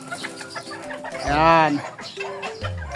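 Chickens clucking and squawking close by as they are let out of their coop on a hot day, one loud rising cackle in the middle, with someone speaking Tagalog briefly over them.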